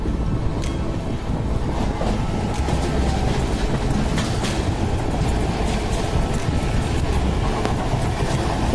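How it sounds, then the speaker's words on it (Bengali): A passenger train rolls into Howrah station running late, a loud continuous rumble of wheels on rails with rhythmic clicks and clanks from the carriages, heard close from on board. "কারণ হাওড়া স্টেশন চলে এসছে। ট্রেনটা 25 মিনিট লেট করেই ঢুকেছে।"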